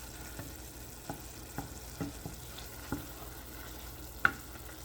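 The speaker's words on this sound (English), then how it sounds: "Here's the apples cooking." Apples cooking in a pan: a soft steady sizzle with occasional light taps and clinks of stirring, quiet and close, no talking.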